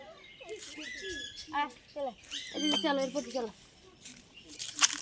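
A cockatoo in a city park gives squawky, voice-like warbling phrases that imitate human speech, in short bursts with pauses, fairly close, against quiet outdoor background.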